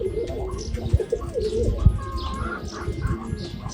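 White doves cooing at an Orthodox monastery in Moldova, with several soft repeated coos and a few chirps nearby, plus a couple of low thumps in the background.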